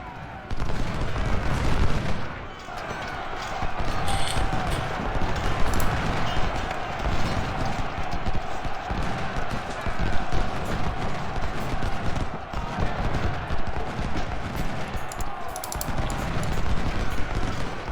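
Battle din from Ultimate General: Civil War: dense, continuous crackle of massed musket fire and artillery booms, with a bugle-like tone and galloping horses in the mix, loud and steady throughout with no talk.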